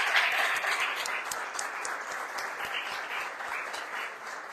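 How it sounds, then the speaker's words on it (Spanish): A church congregation applauds steadily throughout, a dense, even wash of clapping from many hands without talk over it. "un aplauso"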